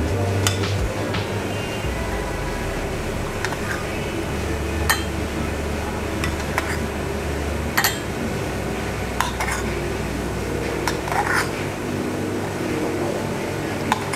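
A spoon scrapes and clinks lightly in a container, scooping ground coffee for Vietnamese drip coffee, with a few sharp taps against a low steady hum.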